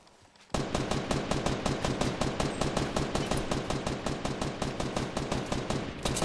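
Rapid automatic gunfire from a video game weapon hammers out in a steady, evenly spaced stream of loud shots lasting several seconds, with no voices over it.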